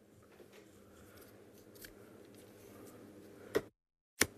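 Scissors snip through pink ribbon in two quick, close cuts near the end, with low room hum beforehand and a short silence between the snips.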